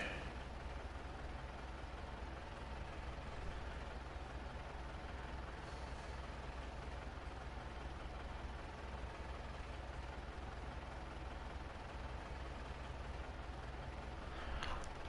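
A green tractor's engine in the video game Farming Simulator 19 on PS4 drones steadily at low volume, a constant rumbling hum with no break.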